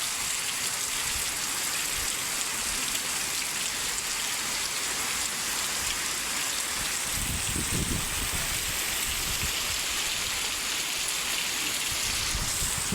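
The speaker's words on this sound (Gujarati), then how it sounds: "ફૂલ વરસાદ" Heavy rain falls on a village farm field, a loud, constant wash of drops with a brief low rumble midway, continuing unbroken and without talk.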